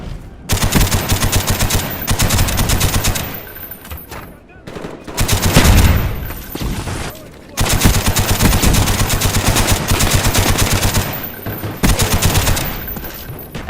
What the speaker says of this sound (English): every single bullet cracked through your speakers to the point you would get scared that they were going to blow themselves out